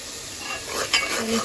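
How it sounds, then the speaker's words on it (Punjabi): A tadka of spices sizzling in hot oil in a pan, a short bright hiss with a faint metallic scrape of stirring, heard close up. "ਭੁੱਜ ਗਿਆ ਵੀ ਤੜਕਾ"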